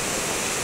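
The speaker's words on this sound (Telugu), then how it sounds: "మళ్ళా చిట్వేల్ బ్రిడ్జి కంటే ఎక్కువ వస్తున్నాయి నీళ్ళు" Floodwater rushes through a river near a bridge in a dense, roaring wash of noise that fills the whole moment at a steady, loud level, with no voices.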